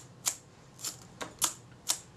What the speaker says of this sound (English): Shutter opens and closes correctly.